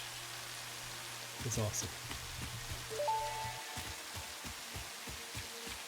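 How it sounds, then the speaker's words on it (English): Rain in the video game Satisfactory, a faint, steady patter under game tones and a short spoken remark, with scattered droplet taps toward the end. "It's raining kittens and puppies out there."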